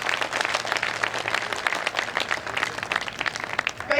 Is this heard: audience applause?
yes